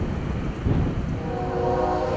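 A freight train's horn sounds with tonal bands while a heavy low rumble rolls steadily underneath, fairly close and loud throughout.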